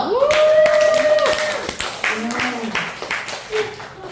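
Children at a church children's-department worship service clap in a steady, rapid rhythm, fairly close, while a voice sings and talks loudly over the clapping.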